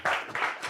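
An audience at a live talent show claps in a short, dense burst of applause, heard at moderate loudness for under a second.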